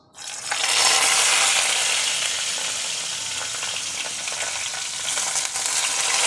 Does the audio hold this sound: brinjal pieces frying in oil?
yes